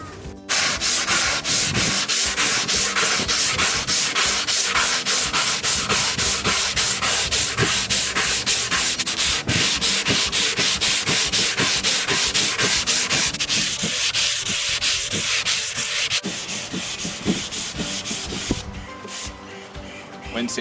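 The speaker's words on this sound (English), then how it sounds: "When sanding, it's important to sand with the grain." Sandpaper rubbing back and forth over a wooden bedside table top, a steady loud scratchy rasp in rapid continuous strokes that eases slightly near the end.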